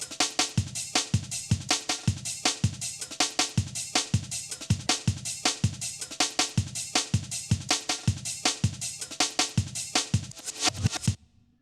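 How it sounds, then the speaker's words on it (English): A chopped-up breakbeat made in Serato Sample for a jungle/drum and bass track plays alone, with fast, punchy kicks, snares and crisp hats in a busy rolling rhythm before stopping abruptly. "I have a chopped up break that I did in Serato sample, and it sounds like this."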